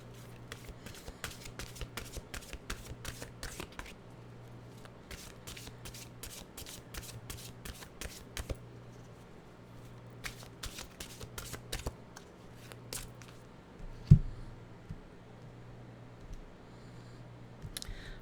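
Cards from a deck of mantra cards are shuffled by hand in a steady run of crisp riffling clicks, pausing and then resuming, close and fairly quiet, with a soft thump near the end.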